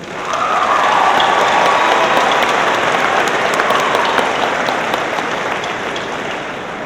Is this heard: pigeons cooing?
no